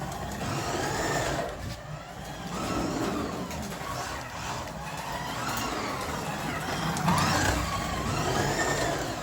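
A Carrera 1:24 BMW M4 slot car drifting on a track, a continuous whining electric motor buzz that rises and falls as it slides through corners, close and without talk.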